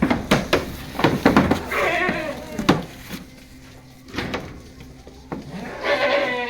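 Several goats bleat loudly and repeatedly, begging for hay in a snowy farm barn, overlapping calls close by, with some shuffling and knocking noises between them.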